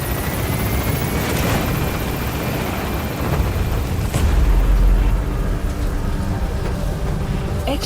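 A helicopter gains altitude in Metal Gear Solid V: The Phantom Pain: a loud, steady rotor roar fills the whole stretch, swelling with a deep rumble midway, and no one speaks.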